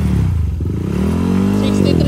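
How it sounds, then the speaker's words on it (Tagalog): A Yamaha Aerox scooter with a 195cc built engine and a shark tip exhaust runs close by, its loud steady drone rising slightly in pitch as it revs gently, with no speech over it. "Yan, tahimik na tahimik ang makina."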